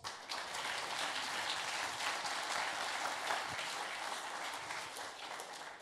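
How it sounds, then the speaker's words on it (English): A conference audience at a developer event's lightning talks applauds the speakers, dense steady clapping from many hands throughout, moderately distant and without talk. "Final clap for all the speakers."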